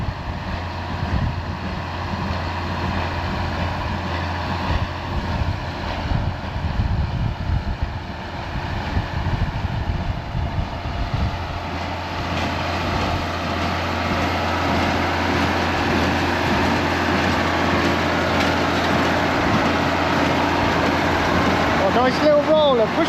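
A tractor, a model 1840, works a field pulling a baler with a roller, its steady low engine rumble and machinery clatter running throughout with faint voices now and then.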